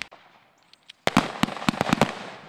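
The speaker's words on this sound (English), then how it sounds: "In between the sounds of shouting and gunfire" A quick volley of sharp gunshot-like cracks from World War II reenactment gunfire at a military museum event, about eight in two seconds, loud and outdoors after a brief quiet.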